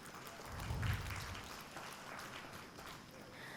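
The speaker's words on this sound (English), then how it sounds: "A huge round of applause for Sir." Microfinance summit audience clapping for a session moderator, a steady, moderately faint round of applause with a low rumble near the start and no one talking.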